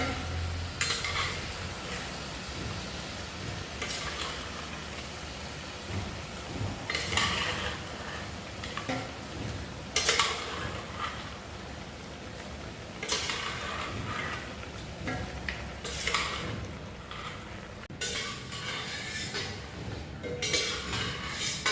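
Pork pieces are tipped into sautéed onions and stirred in a pan for a Kerala-style pork roast, with soft sizzling under repeated scrapes and clinks of the spatula against the pan, close and fairly quiet.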